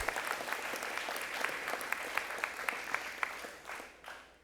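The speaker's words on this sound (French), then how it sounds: "Ils méritent une main d'applaudissement." Steady applause from a crowd at a speech, with sharp individual claps standing out, fading toward the end.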